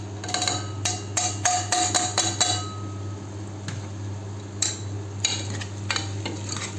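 Aloo kadhi being stirred and mixed in a pan, with a quick run of sharp metallic clinks as a spoon strikes the pan, then a few scattered taps over a steady low hum.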